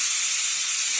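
A pressure cooker of mutton curry vents steam in a loud, continuous high-pitched hiss, heard up close and alone.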